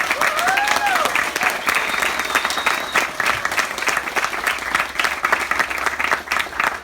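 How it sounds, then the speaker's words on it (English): Wedding guests applaud steadily for the full stretch, a dense, close wash of clapping outdoors in light rain, with a few faint whistles and voices rising through it near the start. "if you could join me and please just, clap it for these guys"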